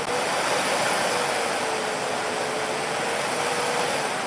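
A Festool Rotex sander runs with its vacuum extraction attached during finish sanding of wood, giving a steady, loud, even whir and rush of air that holds unbroken from start to finish with no talking.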